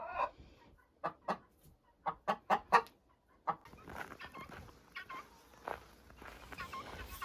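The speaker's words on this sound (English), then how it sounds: "The guineas and the chickens are really enjoying these warm days too." Hens and guinea fowl on a farm cluck in a run of short, close bursts, several loud calls clustered early, then softer scratching and shuffling noises with quieter clucks.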